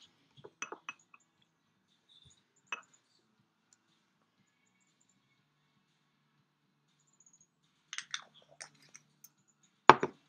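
Batik dye colours being mixed together in small containers, giving a few scattered light clinks and taps near the start and middle, then a cluster of louder clinks toward the end, with quiet gaps between.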